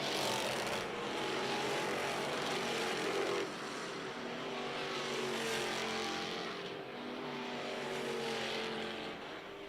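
DIRTcar Sportsmen Series cars circling the dirt oval at Mohawk International Raceway during qualifying: a continuous engine roar that swells and fades in waves as cars pass, somewhat distant, with no talking.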